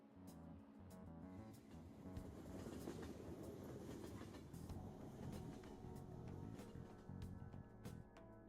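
A train rolling on rails in the Persona 5 video game, with a continuous rumbling ride and regular clickety-clack wheel knocks over the rails, steady and fairly close.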